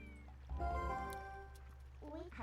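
A cat meows in the video game Zelda: Twilight Princess, a drawn-out tonal cry over a low steady hum and flowing water, followed by a shorter second meow at the end.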